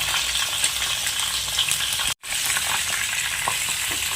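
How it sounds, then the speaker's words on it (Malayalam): Chicken pieces fry in hot oil in a pan, a dense, continuous crackling sizzle heard up close, broken by one brief cut to silence midway. "ഇതൊന്ന് മറച്ചിട്ട് കൊടുത്തിട്ട് ഒന്ന് ഫ്രൈ ചെയ്തെടുക്കാം"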